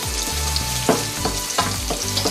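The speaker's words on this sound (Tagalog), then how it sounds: "So, gisa-gisa lang." Ingredients for beef kaldereta sauté in a pan, giving a close, steady sizzle broken by rhythmic stirring scrapes and clinks about twice a second.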